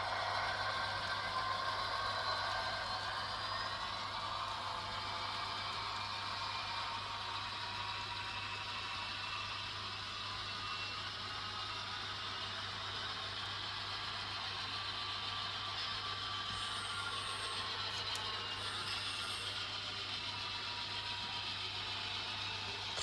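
N scale Broadway Limited SD40-2 model locomotive running under throttle, a faint steady mechanical whir and hum with soft clicking, continuous and quiet throughout.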